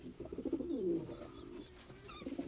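Domestic pigeons coo in a loft, a soft rolling, throaty murmur repeating close by, with a brief higher chirp near the end and no talk.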